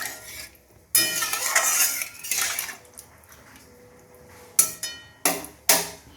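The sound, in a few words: stirring ash gourd peel curry with added water in pot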